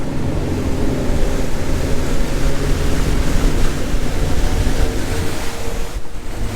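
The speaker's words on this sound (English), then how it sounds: "Boat jumped right up on plane." A 2021 42-foot Freeman Boatworks boat's motor drones steadily beneath rushing water and heavy wind buffeting as the boat planes, a constant loud roar of travel across the surface.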